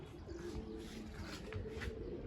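Pigeons set out in the sun coo softly and continuously, several low throaty calls overlapping at close range over a steady background hum, with no talking.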